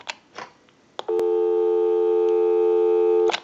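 A few faint clicks, then a steady telephone busy tone on a Western Electric 500 rotary dial telephone, sounding continuously for about two seconds before a click cuts it off.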